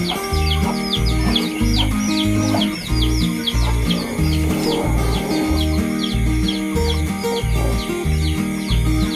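Newly hatched chicks cheep in rapid, continuous high peeps while their mother hen clucks low and rhythmically underneath, all close and steady throughout.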